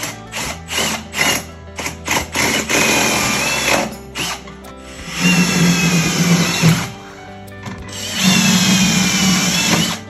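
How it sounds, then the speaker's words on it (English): A power drill revs in short bursts, then bores steadily through wooden joists in two long grinding runs, loud and close, with mechanical rattling between. "I got a drill from can to can to run my wire."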